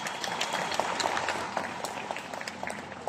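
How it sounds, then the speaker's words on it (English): An audience claps for Raymond Tong at a Riway company event, a steady, fairly loud round of many hands that continues throughout and begins to thin toward the end. "So let's give Raymond Tong a round of applause."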